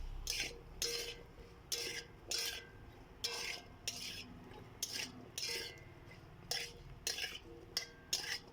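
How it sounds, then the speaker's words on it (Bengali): A spoon stirs papaya in oil in a pan with regular scraping strokes, about a dozen rhythmic bursts close by, no talk. "এরপর এটাকে ভালোভাবে নেড়ে দেবো।"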